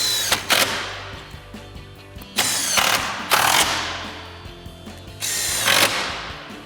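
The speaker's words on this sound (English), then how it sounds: "Next, we can reinstall our 10mm screws up top." Power driver running 10mm screws back into the top of a 2021-2023 Ford F-150 grille, three separate bursts of whirring drive, each lasting about half a second to a second, with quieter gaps of handling noise between them.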